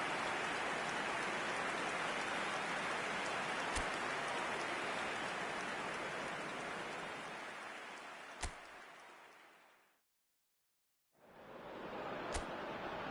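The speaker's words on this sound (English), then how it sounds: "We welcome you to a rainy day here." Steady rain hissing in an eFootball match, a broad even downpour that fades out, drops to a brief silence, then returns, with a few sharp clicks scattered through it.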